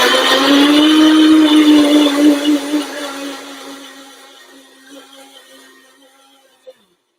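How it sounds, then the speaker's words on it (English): A kitchen blender whirs through dessert ingredients with vanilla powder, a loud steady motor whine that winds down and fades over several seconds, ending with a small click. "So we're just going to blend these in a blender very quickly."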